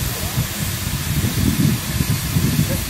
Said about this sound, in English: We're quite excited to actually be pulled by a steam train.